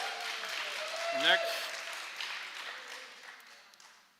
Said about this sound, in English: please keep the clapping down